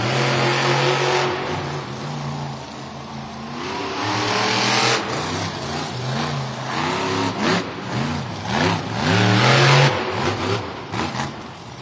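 The monster truck Vendetta revs and races at a Monster Jam stadium event in Cleveland, its loud engine rising and falling in repeated throttle sweeps close by.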